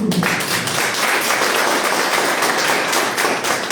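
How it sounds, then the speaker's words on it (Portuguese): A church congregation applauds steadily in a room, a dense, loud wash of many hands clapping that holds throughout. "Palmas para Jesus"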